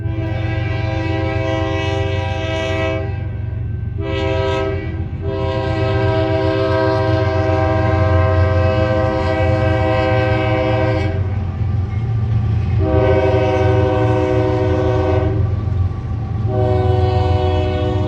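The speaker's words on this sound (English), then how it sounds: "That's a work train." Slow work train rolling past with a deep, steady rumble of engines and wheels, its horn sounding loud and close in several long blasts broken by brief gaps.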